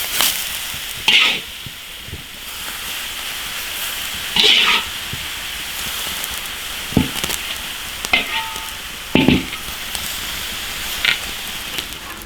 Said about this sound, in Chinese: 炒香，淋到牛肉上面